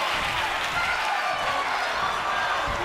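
Crowd noise in the WWE 2K24 wrestling video game, a dense, steady roar of cheering and applause from a large arena audience filling the whole stretch at constant loudness.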